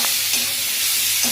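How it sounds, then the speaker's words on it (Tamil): Jackfruit pieces being sautéed in ghee in a pan give a steady, close sizzle with a few soft stirring scrapes, heard alone without any talk. "இப்ப வந்து இந்த பலாச்சோலையை வந்து கொஞ்சம் வதக்கிக்கணும்."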